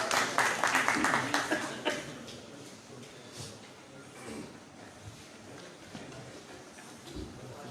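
An audience at a lawyers' conference at the High Court Bar in Bahawalpur claps to welcome a speaker, a brief burst of applause that fades within two seconds into quiet room noise.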